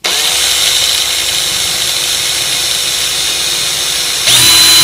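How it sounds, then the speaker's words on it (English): A power drill whines steadily at high pitch as it bores into metal while fitting a brake pedal kit, loud and close, with a brief louder surge near the end. "this time I'm not drilling into plastic, I'm drilling into metal."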